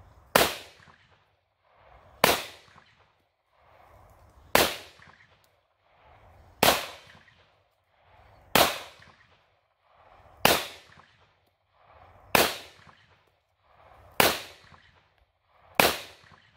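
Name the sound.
gunshots from a Taurus GX4 9mm pistol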